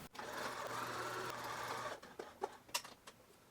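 Sewing machine running a sleeve side seam on a rayon blouse: a steady close mechanical whir for about two seconds, then stopping, followed by a few light handling clicks and taps.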